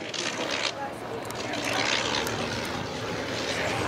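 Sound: propeller aircraft making slow speed pass at airshow

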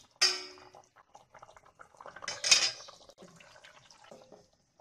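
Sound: covering the cooking pot with a lid

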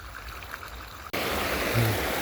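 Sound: water flowing from an opened water channel

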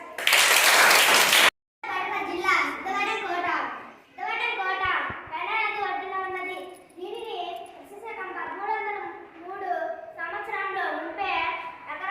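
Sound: children clapping

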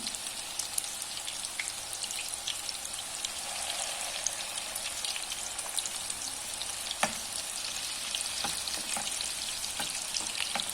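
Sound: meatballs frying in a pan

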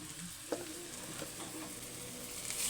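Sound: onions frying with turmeric and ginger-garlic paste

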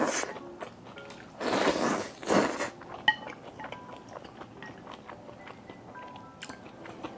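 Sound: eating fried skewers and noodles, chewing

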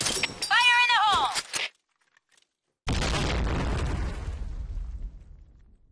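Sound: grenade explosion in Brothers in Arms video game

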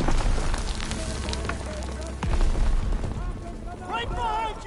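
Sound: grenade explosion in a World War 2 video game

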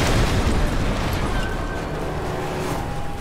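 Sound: explosion in video game Call of Duty MW3

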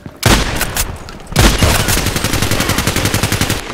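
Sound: MP-133 pump shotgun firing in video game Contract Wars

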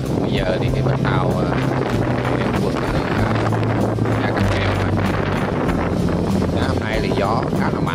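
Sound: strong wind on Vung Tau beach

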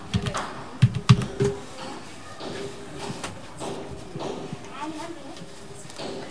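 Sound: computer keyboard typing a search

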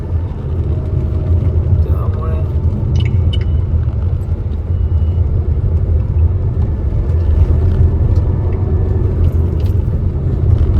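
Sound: heavy evening road traffic

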